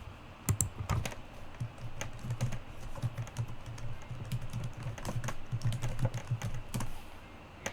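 Typing on a computer keyboard, a steady run of close, crisp key clicks with a few louder strikes, heard alone with no talk.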